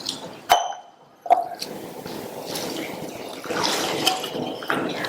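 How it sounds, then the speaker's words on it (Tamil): Basmati rice being rinsed in water in a vessel: sharp knocks of grains against the pot, then drips, sloshing and swishing of water close by. "இதை இந்த பாத்திரத்துல சேர்த்துட்டு 2 தடவை வாஷ் பண்ணி அரை மணி நேரம் ஊற வச்சுக்கலாம்."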